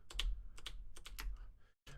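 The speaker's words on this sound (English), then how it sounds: "I have to sit here clicking the keys" Computer keyboard keys clicked in short separate bursts, several taps in a loose rhythm while moving around in an open block-building game, close and moderately loud with a brief silent gap near the end.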